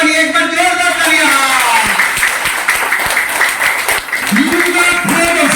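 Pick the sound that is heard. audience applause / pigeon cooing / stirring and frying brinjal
audience applause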